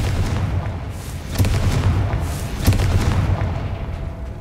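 A Confringo fire spell blast in Hogwarts Legacy, heard as a dull booming burst with a second heavy thump a little over a second later, set against a constant low rumble of ambient noise and no talking.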